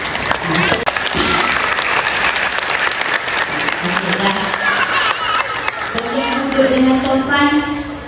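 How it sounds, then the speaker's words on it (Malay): Children and teachers at a Year 1 school transition closing ceremony clap loudly, dense applause that thins out after a few seconds as voices and singing rise over the fading claps. "Beri tepukan kepada penyelaras transisi."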